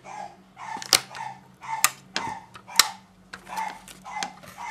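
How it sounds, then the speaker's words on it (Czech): A dog barks repeatedly in short sharp bursts, about a dozen barks in an irregular rhythm, fairly close and clear against a faint background hum. "Jestli slyšíte štěkání, tak to se můj pes zbláznil."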